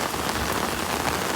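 Heavy rain pours onto hard surfaces in Edinburgh, a dense, loud, steady hiss of spattering drops with no pauses and no voices.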